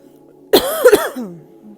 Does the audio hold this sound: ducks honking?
no